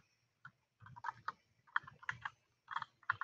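Typing on a computer keyboard while writing CSS code, with close, crisp key clicks in short irregular bursts and brief pauses between them, with no talking.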